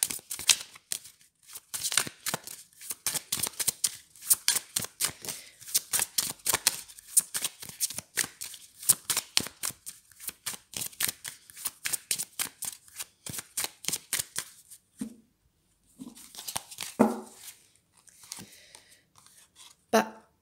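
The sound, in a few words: shuffling oracle cards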